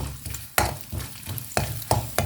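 Coconut pieces fry in a pan while being stirred for a dried prawn roast, with a steady close sizzle and stirring scrapes at a fairly regular pace.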